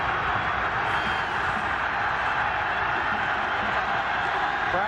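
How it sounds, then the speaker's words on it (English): A college football stadium crowd at an Alabama Crimson Tide versus Hawaii Warriors game roars in a continuous, dense wash of cheering, loud and sustained with no breaks. "Crowd louder than ever now"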